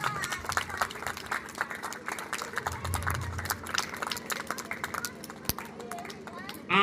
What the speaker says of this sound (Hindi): ताली आप लोग बजाइए।